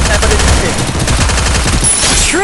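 Sniper fire rings out in a battle royale video game: loud, dense bursts of shots crack in rapid succession throughout, with faint voice chatter underneath.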